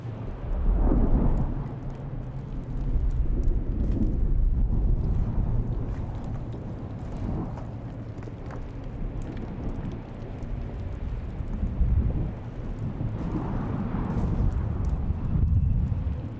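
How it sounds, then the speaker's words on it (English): A large sandstorm hits in the video game Dune Awakening: a steady, heavy roar of wind and rumbling that rises and falls in gusts and surges, with no talk. "A large sandstorm is approaching."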